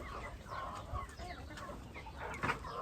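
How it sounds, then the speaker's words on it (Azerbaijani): Chickens clucking nearby, a soft scatter of intermittent clucks and squawks over low background noise, with no one talking. "Toyuq deyirlər, elə bir"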